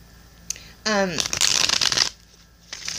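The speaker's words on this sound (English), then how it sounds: "I'm going to shuffle while I'm recording as well" Tarot cards are riffled and shuffled in a quick burst of crisp papery rustling, preceded by a brief voiced sound, with a soft rustle near the end.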